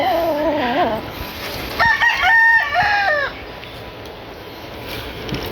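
A Gilmore bull stag gamefowl rooster crows loudly and close, a single drawn-out cock-a-doodle-doo with a few clucks just before it, set against steady outdoor background noise.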